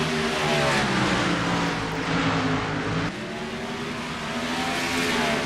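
Race cars in an ISCR Canada Series event at Edmonton accelerate hard on a green-flag restart, a loud, dense pack of engines roaring and revving continuously close by, dipping briefly near the middle.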